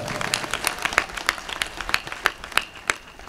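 An audience at a devotional kirtan gathering claps for the mridang player: scattered, uneven handclaps, moderately close and not very dense, over a faint murmur.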